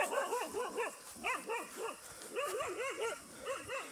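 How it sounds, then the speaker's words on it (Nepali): A dog barks in repeated bursts of short, sharp woofs at moderate distance while chasing off goats along a Nepali hillside, with brief gaps between each volley. "भुक्दै भुक्दै, कुकुरको पनि आफ्नो एरिया हुन्छ नि त"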